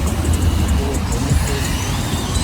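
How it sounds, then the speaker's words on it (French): A white Bentley Continental GT with the W12 engine drives past on a Paris street, giving a loud, deep rumble close by over steady traffic noise. "Très jolie Continental GT blanche en W12 avec rap US à fond dans la caisse."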